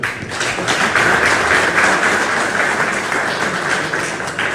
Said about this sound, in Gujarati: જોરદાર તાળીઓ થઈ રહી છે.